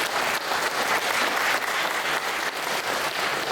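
A church congregation at a breakfast worship service claps to approve a nomination, steady applause from a fairly large group that holds at an even level throughout.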